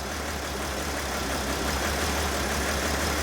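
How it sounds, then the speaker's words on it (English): A Mercedes Sprinter diesel engine idles roughly with a cylinder misfire, a steady low droning rumble with a constant hum, heard close and alone without talk. "Alright, so I got the engine started. So right now at idle, let's see what we got."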